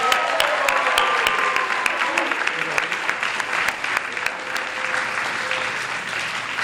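An audience applauds a reverend at a school Black History Month celebration, with sustained clapping from a sizable crowd and a few whoops and cheers rising over it.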